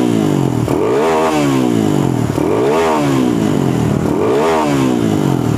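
A Kawasaki D-Tracker KLX motorcycle idles on its standard exhaust, close and loud, its engine note swelling and falling in three repeated rev sweeps over a steady lumpy throb.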